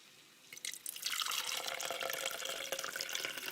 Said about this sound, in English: I'm going to go ahead and pour it in my favorite cup that I like to drink my juice from